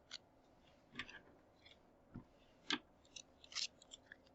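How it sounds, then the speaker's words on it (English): Scissors snip off excess tape on a paper tessellation in a handful of quiet, irregular close clicks and crisp cuts spread across a few seconds. "Now I'm using my scissors just to cut off this excess tape."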